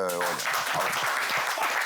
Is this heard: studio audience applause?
yes